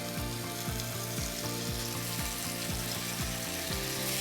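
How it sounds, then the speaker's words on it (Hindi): Kimchi sizzles loudly in hot oil, a steady close crackle with a regular low thudding pulse running beneath it throughout, and no one speaking. "गर्मा गर्म तेल में जा रही है कीमची"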